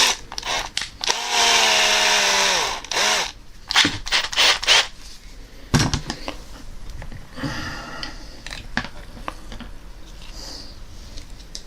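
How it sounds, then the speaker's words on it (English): A small handheld drill works into plastic action figure parts in short bursts, a close buzzing whirr that starts and stops, with clicks and handling sounds between runs. "I got a nice little small drill here."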